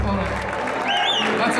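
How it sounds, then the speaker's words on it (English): An audience applauds at a rockabilly show, a loud, steady burst of clapping with a voice rising briefly over the crowd noise. "please, another round of applause for my friend and colleague, Dr. MC Neve, Del Villarreal."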